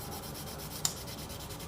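Soft, quiet rubbing of 600 grit sandpaper on a 3D printed resin part, a steady faint scratchy texture with one brief sharper scrape midway.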